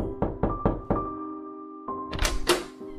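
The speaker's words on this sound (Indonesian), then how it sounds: "Gue ketok pintu rumahnya." Knocks on a house door at night: a quick series of four hard raps, a pause, then a louder flurry of knocking, close and clear with no voices.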